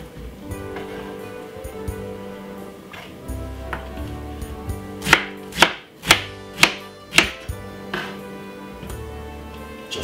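A knife chops through peeled pineapple on a board with about five sharp, evenly spaced cuts in quick succession, plus a few softer taps, all close and clear over steady background music.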